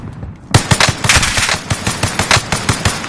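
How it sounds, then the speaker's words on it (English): Video game machine gun fire rattles in loud, rapid bursts, starting abruptly after a short quiet moment and continuing as steady repeated shots up close. "Gunfire going on."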